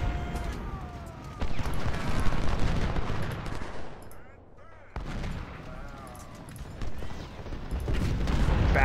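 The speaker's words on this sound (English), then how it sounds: "If we can silence that artillery, we're in a much better position." Artillery and gunfire in the Civil War strategy game Ultimate General: Civil War, dense rumbling battle noise with repeated blasts, fading briefly mid-way before resuming loud under a talking voice.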